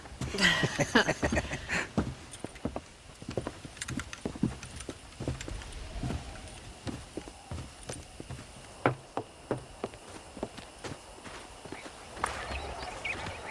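Horse hooves in the video game Red Dead Redemption clip-clop at a walking pace, irregular hollow knocks near and fairly soft over a quiet outdoor background.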